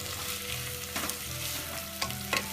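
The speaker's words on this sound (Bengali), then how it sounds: "এলাচি, তেজপাতা এবং দারচিনি পেঁয়াজের সাথে একসাথে ভেজে নিলে আপনার তরকারি" Onions fry with cardamom, cinnamon and bay leaves in oil for mutton rezala, giving a dense continuous sizzle with stirring scrapes and a few sharp clatters, close and alone.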